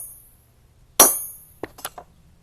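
A regular hammer striking a homemade metal ring, one sharp ringing blow followed by a few lighter taps, close and clear.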